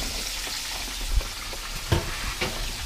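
Buttermilk fried chicken frying in oil in a pan, giving a steady dense sizzle with a few louder pops and crackles throughout.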